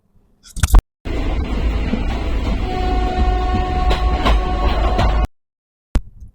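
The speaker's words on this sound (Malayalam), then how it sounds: "ഞാനിങ്ങനെ ട്രെയിൻ പോകണത് നോക്കി സൈഡിലിങ്ങനെ നിന്നു" A train rumbles past close by for several seconds, with clattering wheels and screeching metal tones, then fades abruptly to quiet.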